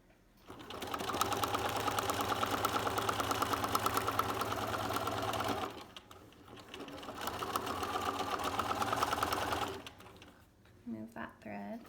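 A sewing machine stitching applique runs in two long steady buzzing bursts of rapid needle strokes, close and loud, separated by a short pause, followed by a brief voice at the end.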